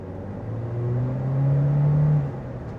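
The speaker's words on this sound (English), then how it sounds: "the engine noise is pretty loud in this, and can get annoying" The engine of a 2025 Toyota Corolla Cross Hybrid Nightshade drones under acceleration as a steady, moderately loud hum that swells in pitch and volume, then eases off near the end.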